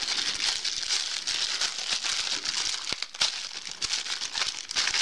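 A plastic parcel bag is torn and crumpled open by hand, giving close, dense crinkling and rustling bursts with a few sharper rips, fairly quiet and with no talking.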